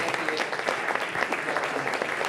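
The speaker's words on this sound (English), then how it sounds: "Big round of applause for you guys." Brief burst of dense audience applause at an evening Pi Day gala in Lawrence, Kansas, steady and fairly close throughout, with no talking over it.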